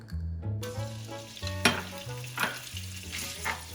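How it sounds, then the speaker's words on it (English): Pork belly hits hot oil in a wok and sizzles loudly for Chinese egg-coated vermicelli, a steady frying hiss broken by scraping stirs and spatula clacks, with a low hum running underneath. "we're going to add in the pork belly"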